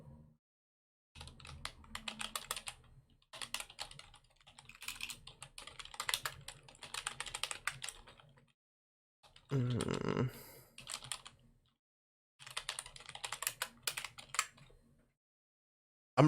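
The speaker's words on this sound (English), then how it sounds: "I'm really good at typing" Computer keyboard typing comes in several bursts of rapid, close clicking keystrokes, separated by short silent pauses, with one denser louder burst in the middle.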